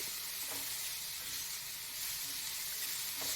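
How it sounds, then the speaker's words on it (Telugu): Onions frying in a pan, turning soft and translucent, give a steady low hiss with a few faint stirring scrapes, close and continuous. "చూడండి ఈ విధంగా ఉల్లిపాయలు ఫ్రై అయ్యాక"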